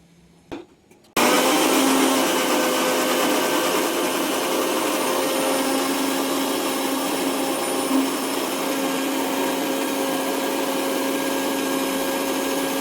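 An electric blender whirs as it blends jamun juice. After about a second of near silence it starts abruptly and runs loud and steady to the end, with a constant motor whine.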